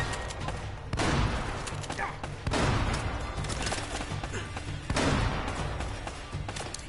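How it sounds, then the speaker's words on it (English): High-powered weapon fire in Uncharted: Drake's Fortune, a dense, loud barrage of blasts and impacts with repeated heavy bursts and continuous rumbling clatter throughout. "That is definitely a high-powered weapon"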